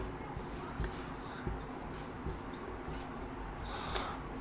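Writing on a board during a lesson makes a continuous, scratchy chalk or marker stroke sound with a few sharper taps, moderately quiet and steady throughout.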